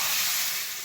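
Pitha rice cakes fry in a hot pan with a brief, steady, close sizzle and hiss, heard alone.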